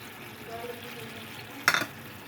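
Egg poured into a sizzling pan of sardines being sautéed, a low steady frying hiss broken by one brief, sharp splashing sizzle burst near the end.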